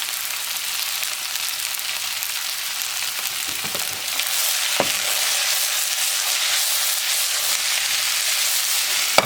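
Lentils sizzle steadily in a hot pan on a stove at medium heat, with an even frying hiss and occasional scrapes of stirring, close and continuous.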